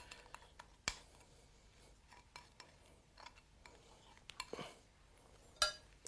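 A utensil scrapes and clinks against the bottom of a bowl of chocolate cake mixture, producing faint, scattered strokes and taps with quiet gaps in between.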